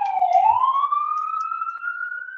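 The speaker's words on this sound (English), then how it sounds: "sorry, that siren" An emergency vehicle siren sounds outside, a single rising wail that sweeps upward and holds steady for a couple of seconds, clear and fairly loud with no talking over it.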